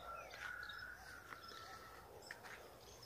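A free-flying rufous-collared sparrow (tico-tico) sings from a small tree, thin high whistled notes repeated a few times over faint background hiss, fairly distant and soft.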